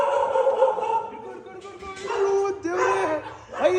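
A dog barks and whimpers close by in short, uneven bursts, with a voice heard alongside.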